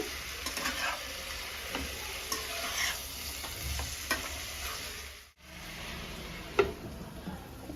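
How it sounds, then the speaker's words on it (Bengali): Pumpkin greens and fish head are stirred together in a pan, producing a soft, quiet sizzle with faint scraping and stirring sounds. The sound cuts out briefly near the end, and no one speaks. "আমি কিন্তু এটা ভালো করে নেড়ে নিচ্ছি মিক্স করে নিচ্ছি"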